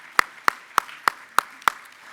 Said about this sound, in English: let's give Brian a round of applause here in absentia